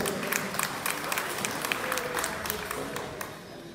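Applause from attendees at a town hall award ceremony honouring artisans in San Andrés Huaxpaltepec, moderate steady clapping with a few sharper claps standing out, continuous throughout.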